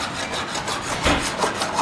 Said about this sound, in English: As I'm filing it down, the real silver color is coming out.